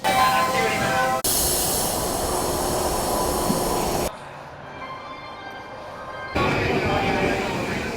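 A Tokyo subway train runs with a loud, steady rumble and roar, the noise cutting abruptly to a quieter hum partway through before the full roar returns.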